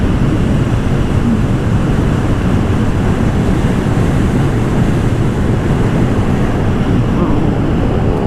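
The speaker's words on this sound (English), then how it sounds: "As beautiful as the day looks, it's pretty cold. Like, the wind is very fresh." Cold, fresh wind blows outdoors, a loud, constant low rumble buffeting the microphone without a break.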